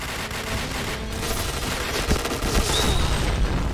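Explosions and gunfire in the Point Blank shooting game: a dense burst of shots and booms building in loudness toward the end, with a bomb blast among them.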